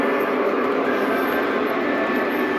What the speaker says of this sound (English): Oh, here comes the Halloween train.